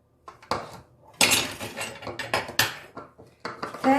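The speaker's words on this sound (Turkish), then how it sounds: "çırpıcıyla iyice karıştırıyoruz" Egg yolks, sugar and flour being whisked by hand in a bowl for tiramisu, giving quick uneven metal clinks and scraping strokes close up, with no talking.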